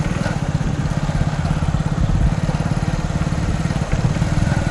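A Mahindra Yuvo Tech Plus 585 DI 4WD tractor engine running steadily nearby, a loud, even diesel chug with a fast throbbing pulse and no breaks.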